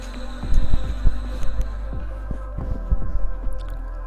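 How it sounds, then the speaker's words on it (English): A mixer grinder churns soaked dal with a little water, a loud close whirring hum broken by repeated throbbing knocks as the batter turns in the jar. "Now I'll close the lid and again I'll grind them."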